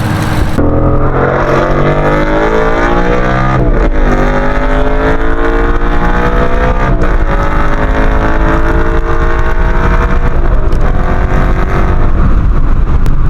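A car with a stock clutch and stainless steel clutch line runs hard through the gears, the loud engine climbing in pitch, dropping briefly at each shift, then rising again across several upshifts.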